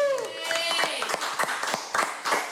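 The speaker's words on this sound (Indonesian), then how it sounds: "Tepuk tangan buat mereka semua" A small group claps at an informal tattoo community gathering in Tangerang Selatan, a short sparse patter of separate hand claps after a fading musical tone, with voices underneath.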